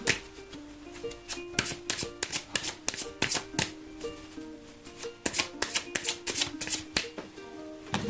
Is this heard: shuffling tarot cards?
yes